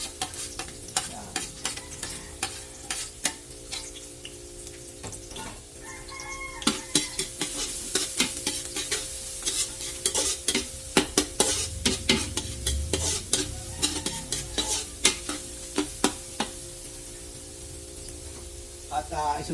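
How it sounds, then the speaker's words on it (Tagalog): Garlic, onion and bay leaf sizzle with beef in a pan, with a steady frying hiss and dense rapid scraping and clacking of a spatula stirring, while a rooster crows in the background. "Pagka ganito mga kaluto ay sinasabay-sabay ko na yan, yung bawang, yung sibuyas, saka yung laurel."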